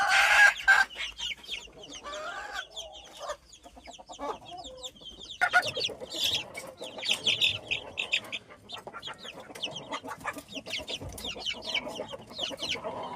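A mother hen that has finished brooding is moved away from her chicks, and clucks mix with dense, high peeping in a coop. The calls come close and busy throughout, with no voices.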